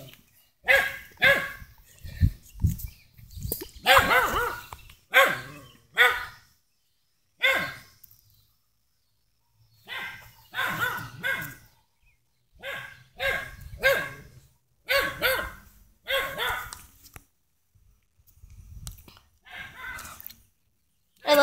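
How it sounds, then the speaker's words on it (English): Dogs bark repeatedly in loud, close bursts of several barks each, separated by short silences and spread across the whole stretch. "Dogs, right?"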